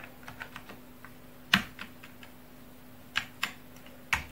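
Keystrokes on an Amiga A1200 computer keyboard as a command is typed: a few scattered clicks, then sharper isolated taps, close and fairly quiet over a steady low hum.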